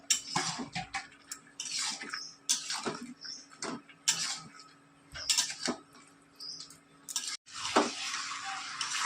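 Onions and fried potatoes going into hot oil in a pan for an Indian chicken curry: a steady sizzle runs throughout, broken by repeated scraping and clinking of a spoon stirring against the pot.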